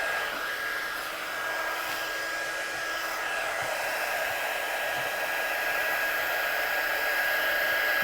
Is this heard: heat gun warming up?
yes